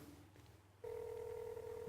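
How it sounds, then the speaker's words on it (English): A telephone ringing during a call, a steady electronic ring tone that starts abruptly and holds for about a second, close and clear after a quiet stretch, with no talk over it. "The phone's ringing"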